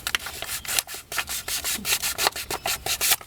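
Rhythmic back-and-forth sanding strokes on hardened JB Weld epoxy filler on a pitted water neck, close and steady, a dry abrasive rasp repeating roughly three times per second with no voices.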